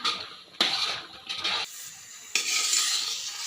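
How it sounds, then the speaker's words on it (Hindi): Roasted semolina and khoya being stirred in a pan, heard as a few close scraping strokes with soft sizzling between them and brief quiet gaps, no voices. "इसे अच्छे से मिक्स कर लेंगे।"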